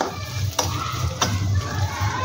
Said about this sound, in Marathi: चांगला खरपूस असा हा जो बारीक रवा आहे तो भाजून घ्यायचा आहे.